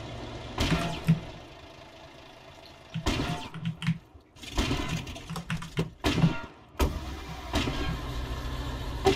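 A vehicle driving in a combat video game, its engine rumbling in uneven surges that rise and cut out, with clicking keyboard taps and short bursts of game noise mixed in.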